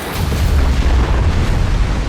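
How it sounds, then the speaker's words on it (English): A powerful torpedo explosion at night, heard as a continuous heavy low rumble that stays loud and dense for about two seconds with no voices over it. "And a powerful explosion pierced the night."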